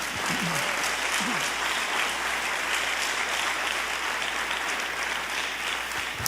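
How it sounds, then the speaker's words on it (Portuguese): Church congregation applauding: dense, sustained clapping from a large crowd, filling the space evenly with a few scattered voices and cheers underneath. "Você pode aplaudir ao Senhor Jesus?"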